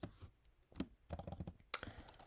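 Keys clatter on a computer keyboard during Python coding, short irregular bursts of close clicks separated by brief pauses, ending in one sharper, louder keystroke.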